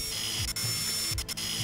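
A drill whirs in a VR video game, a steady high mechanical whine with rhythmic ratcheting clicks and brief dips in the motor tone, loud and continuous throughout.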